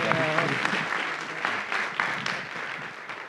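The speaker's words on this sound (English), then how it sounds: "So can you all give her a round of applause, please?" A conference audience applauds a panel host at a session on Reconnecting Communities plans, with dense, steady clapping from a sizable crowd that holds at an even level for the full stretch.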